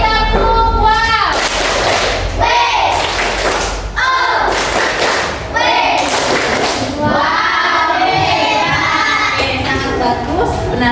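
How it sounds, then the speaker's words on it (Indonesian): A fifth-grade class performs a rhythmic clapping cheer, with loud bursts of many hands clapping together in patterned beats while children's voices chant along in a classroom. "Beri tepuk wow."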